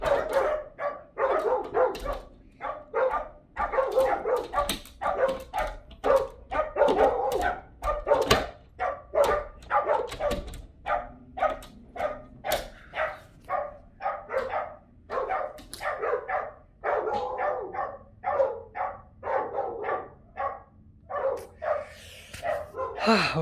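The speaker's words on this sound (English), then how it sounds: "He saw me, and he's barking, and he's coming to me" Several dogs bark repeatedly in loud, rapid bursts with yips and whimpers, a continuous chorus of barking close by, with a person's voice briefly heard among it.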